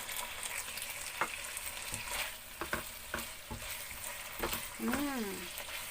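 Chicken adobo with sausage frying in a pan, with a soft continuous sizzle and occasional clicks and scrapes of stirring, plus a brief faint voice near the end.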